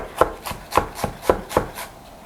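A knife chops garlic finely on a cutting board, five crisp, evenly spaced strikes close up with no voices.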